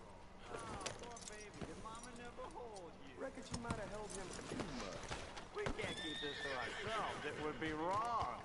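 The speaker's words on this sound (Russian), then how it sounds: "Лошадь Арту. О, моя лошадь." A horse in Red Dead Redemption 2 whinnies repeatedly while hooves clip-clop in a steady gallop, with someone talking over the sounds throughout.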